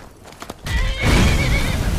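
In Skyrim VR, a horse's hooves clop briefly before a loud, close neigh rises and trails off into a drawn-out whinny.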